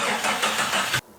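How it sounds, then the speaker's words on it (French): A Jeep Cherokee with the 4.0L engine cranks and fires with its exhaust pipe removed and no muffler, giving a loud, raw, pulsing roar for about a second before it cuts off abruptly. "Ça veut dire démarrage sans pot."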